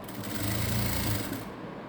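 A sewing machine runs steadily, stitching a folded 3/4-inch hem on a Baahubali-style sleeve. The motor whirs close and even for about a second and a half, then stops.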